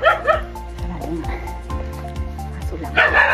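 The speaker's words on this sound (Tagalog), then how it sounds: "Aso lang." A dog barks and yips repeatedly on a mountain trail at Mt. Ayaas, bursts of barking at the start and end with whimpering sounds between, fairly close and loud.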